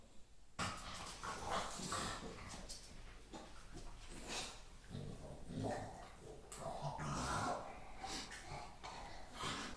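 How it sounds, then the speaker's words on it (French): Dogs fight close by, snorting, growling and wheezing in dense overlapping bursts with scuffling, harsh and continuous, recorded faintly. "Je vous propose une petite pause combat de chien."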